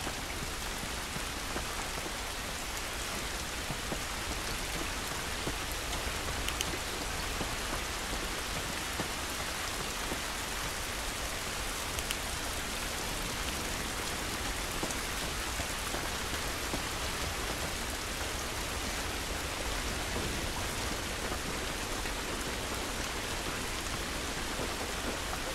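Steady rain pours outdoors in The Last of Us Remastered, an even, unbroken hiss of drops on surfaces throughout.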